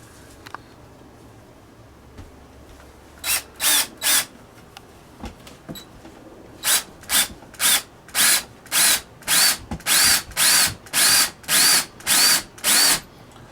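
A power drill drives star bit screws into a log for a log cabin sill, giving about a dozen short, loud whirring bursts in an uneven rhythm, with the later runs coming faster.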